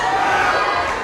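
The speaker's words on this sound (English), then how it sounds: "Big rounds of applause." Crowd at a Scottish powerlifting classic championship applauding and cheering after a smooth lift, a steady broad wash of clapping and voices held at one level throughout.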